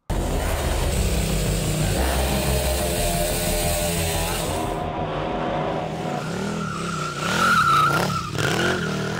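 Stunt motorcycle drifting with a loud aftermarket exhaust, the engine revving hard and wavering in pitch alongside screeching tire squeal, close and continuous throughout.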